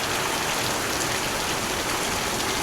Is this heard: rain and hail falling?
yes